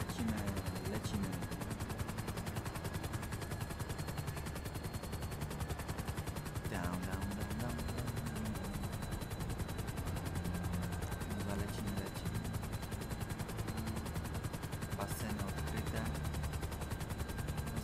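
Gunfire rattles at a helicopter in GTA V Online on PS4, with a steady rotor drone underneath and scattered shots and bursts cracking over it.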